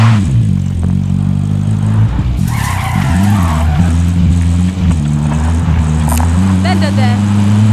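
A car driven in Call of Duty Warzone Pacific, its engine droning steadily and shifting pitch while tires skid and squeal, loud and close throughout.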